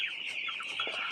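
Nine-day-old broiler chicks give a steady, faint chorus of continuous high peeping and soft clucks that run without pause, with no talking over them.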